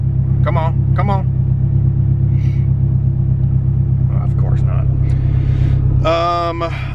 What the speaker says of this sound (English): Now we'll start it back up and see how it idles.